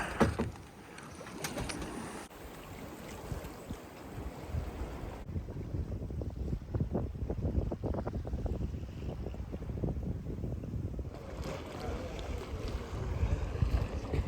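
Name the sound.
sailboat moving fast in the wind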